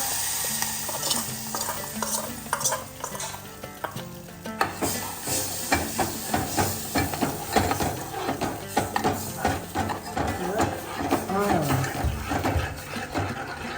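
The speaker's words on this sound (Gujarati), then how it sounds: "હવે આપણું બેસન એડ કરીશું એટલે આપણી ચટણી કઢી જે કોઈ તૈયાર" Besan (gram flour) is stirred into sizzling kadhi in a pot, with a spoon scraping and knocking against the metal. A steady hiss of frying runs underneath, and the clinks come in irregular bursts.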